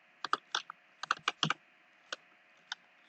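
Keys clatter on a computer keyboard in short uneven bursts, a quick cluster of taps followed by a few isolated keystrokes, close and crisp against a quiet background.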